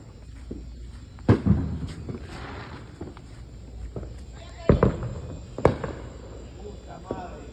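A 100-shot fireworks cake goes off outdoors, sharp cracking bangs scattered irregularly with several loud reports and quieter pops between, as people talk in the background.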